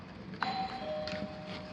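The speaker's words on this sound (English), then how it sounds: "And this is the doorbell." Doorbell chime in a newly built North Dallas house, a single clear tone sounding once and ringing out steadily against a faint background hiss, with no voices.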